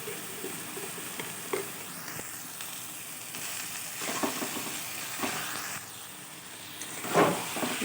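Taro leaves (kochu shak) cooking in a pan with ghee, a soft continuous sizzle broken by a few scraping stirs and a louder crackling burst near the end.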